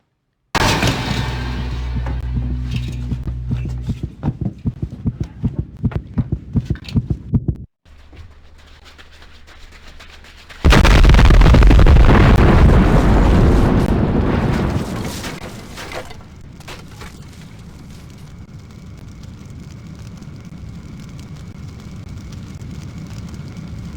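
A bomb goes off inside a locked room: rapid pulsing tones give way to a sudden loud, roaring blast that rumbles for several seconds before fading into a lower lingering hum.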